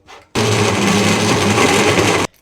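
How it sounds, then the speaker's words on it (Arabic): A blender whirs loudly and steadily for about two seconds, starting and stopping abruptly, chopping strawberries and mango with honey, with a constant high-speed grinding roar. "هضربهم بقى في الخلاط"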